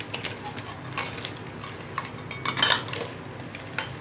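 A metal utensil stirs Kerala-style crab curry in a pot, clinking and scraping against the sides in irregular knocks over a low simmer, nearby and with no voices.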